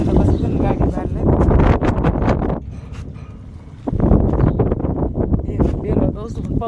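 Strong wind gusts buffet the microphone outdoors, producing loud low rumbling bursts that rise and fall, with a calmer lull midway.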